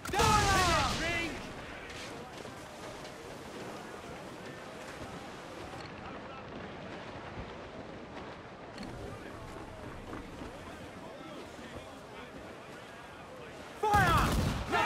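Naval battle in Assassin's Creed IV: Black Flag, with booming ship cannon fire at the start and end over steady wind, waves and creaking sea noise, and a loud burst of shots near the close.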